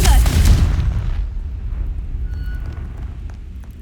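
The Confringo spell bursts into a loud, deep boom in the Hogwarts Legacy video game, hitting hard at once and then rumbling down into a fading tail.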